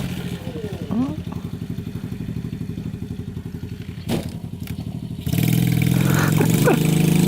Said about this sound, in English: Doing a couple wheelies on the Venom quad.